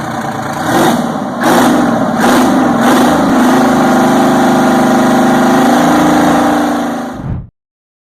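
A Detroit Diesel 12V71 diesel engine runs loud and steady, with a deep continuous drone and a few rhythmic surges in the first few seconds, then cuts off abruptly near the end.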